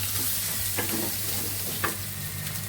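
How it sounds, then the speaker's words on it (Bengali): Food for pasta frying in a pan, a steady close sizzle with occasional faint stirring scrapes and a low hum beneath. "ভালো করে ভেজে নেব"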